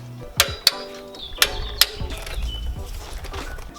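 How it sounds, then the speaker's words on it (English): Ratchet tightening 17mm bolts on a Toyota Tacoma front skid plate bracket, a few close metallic clicks and clanks followed by quieter mechanical rattling. "Now we could install the skid plate bracket and tighten down those 17mm bolts to 35 foot-pounds."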